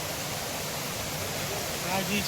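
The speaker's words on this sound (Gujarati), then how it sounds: "ઝરણાનો જો અવાજ આવે છે અહીંયાથી ઝરણું પસાર થઈ રહ્યું છે" A mountain stream at Jatashankar near Junagadh rushes steadily as a faint, continuous wash of flowing water with no distinct splashes.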